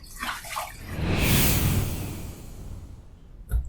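Water rinsing after a razor shave: splashing and running water that swells in the middle, then fades, ending with a short knock-like splash.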